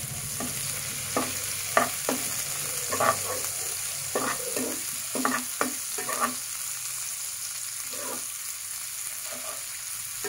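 Chopped onion and ginger frying in a pan for a mustard-style bata fish curry, giving a steady low sizzle under repeated stirring scrapes and clicks of a spoon, close and fairly quiet, with no talking.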